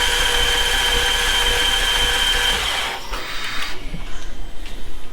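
A BMW F90 M5 engine turning over on its starter with no compression, a loud steady whirring drone for about three seconds that then cuts out, leaving quieter uneven rumbles close by.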